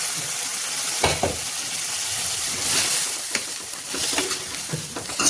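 Steady, loud sizzling of tempering spices frying in hot oil for chole, with occasional stirring scrapes and crackles, close up and without talk.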